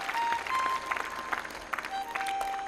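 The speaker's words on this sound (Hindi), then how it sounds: "एक बार जोरदार तालियां बजा दो।" Audience at a yoga gathering clapping in a short burst, uneven and moderately loud, with a faint tone and scattered background noise.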